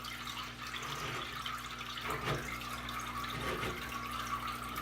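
Aquarium siphon tube drawing water from a 55-gallon planted tank, a steady watery gurgle and trickle with faint bubbling, continuous and moderately close, no talking.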